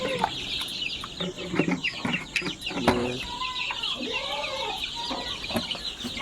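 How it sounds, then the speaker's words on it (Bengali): Golden chickens cluck and chirp busily around a water drinker, many close calls overlapping in a dense, continuous farmyard chatter. "মুরগিরা সব পিয়াসে ছিল, তার জন্য তাড়াতাড়ি খেতে লেগেছে।"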